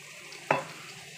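Water from a spice bowl hits hot frying masala in a pan, giving one short, sharp sizzle burst that quickly fades.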